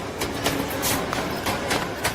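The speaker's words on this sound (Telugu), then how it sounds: "నాన్న ట్రైన్ వచ్చినట్టుంది." A local train arriving, a steady rumbling rush with faint rhythmic clatter throughout, fairly close and moderately loud.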